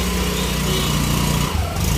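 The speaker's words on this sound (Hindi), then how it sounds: "ये मेरी गाड़ी स्कूटी" A scooter engine runs steadily nearby at a constant buzzing drone, loud and unbroken, with a brief dip near the end, at a garage for a service.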